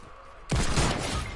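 A sudden loud crack of gunfire in Fortnite bursts in after a quiet moment and rings out with a sharp, sustained blast, with no talk over it.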